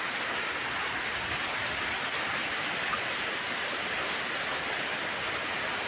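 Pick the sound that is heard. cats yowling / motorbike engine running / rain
rain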